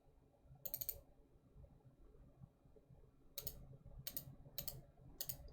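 A computer mouse clicking during game development work, sharp isolated clicks: one short burst early, then four quick clicks in a row near the end, close and crisp over a quiet room hum.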